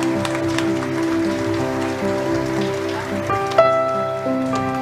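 A church congregation at the pontifical coronation of Our Lady of Mercy applauds in a steady, dense patter of clapping, mixed with sustained musical tones underneath.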